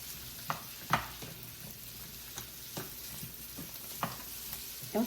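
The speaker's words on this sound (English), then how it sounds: "I'm going to stir them around just a little bit. Let them get coated with that oil and butter." Greens stirred in a pan of hot oil and butter give off a continuous sizzle, broken by a few soft scraping knocks from the stirring, with no talk.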